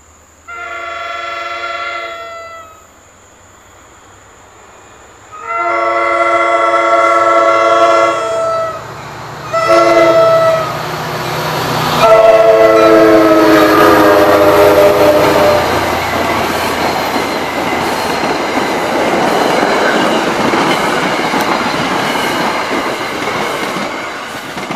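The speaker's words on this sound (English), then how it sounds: "Sounds like 4204 because of the sick horn." An express train sounds repeated loud multi-tone horn blasts in several bursts as it approaches a station, then roars past with rumbling and clattering wheels that stay loud to the end.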